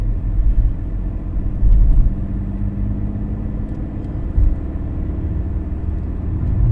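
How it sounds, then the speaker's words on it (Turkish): A learner car's engine revs as the gas is pressed in second gear, a loud, steady low rumble with two brief surges in intensity, heard from inside the cabin without speech. "Bas gazı yapacağım"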